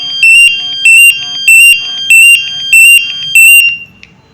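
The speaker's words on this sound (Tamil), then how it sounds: "அலாரம் அடிச்சுக்கிட்டே தான் இருக்கும்" A 4X gas meter alarm triggered by a high LEL reading, sounding six loud, evenly spaced bursts of shrill electronic beeping close by, then falling silent, with no voices.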